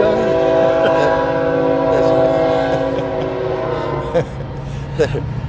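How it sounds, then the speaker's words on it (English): A train rumbles past with steady mechanical drone and clanking, a horn tone sounding throughout, with people talking nearby. "Do you like the train? The train sound, yeah."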